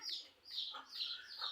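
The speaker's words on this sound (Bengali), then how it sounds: "আমার মিঠুকে ঠোক দিচ্ছে পোলট্রি মুরগি।" Poultry chicken clucking softly nearby, a few short, faint calls in a loose rhythm over a quiet background.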